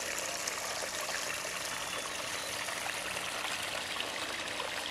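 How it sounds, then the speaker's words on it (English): A pond waterfall splashes and rushes continuously, a steady close-up cascade with no voices. "Waterfall."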